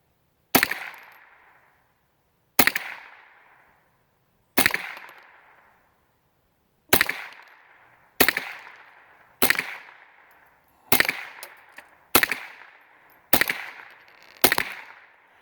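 Ten sharp single shots from an old Squires Bingham model 50 .22LR rifle fired outdoors at 15 yards, spaced a couple of seconds apart at first and then coming faster, each crack followed by a brief ringing decay, with no talk.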